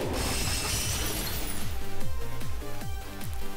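The Pokémon move Icicle Crash in a video game lands as a bright, loud burst of shattering ice and glass. A rapid train of descending crackling impacts and tinkling fragments follows, with no voices.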